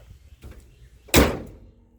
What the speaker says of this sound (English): Guess I should have told you I was slamming the hood, huh?